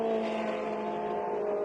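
Red Ferrari F430 race cars racing at Barcelona in a classic endurance series, a steady, fairly faint engine drone with a sustained tonal hum held throughout the short stretch.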